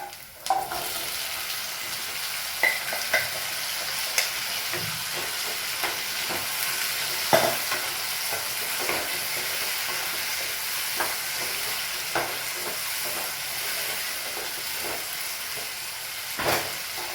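Boiled, salted jackfruit seeds stir-fry in a hot pan with a steady, close sizzle, broken by a few sharp clinks and scrapes as they are turned.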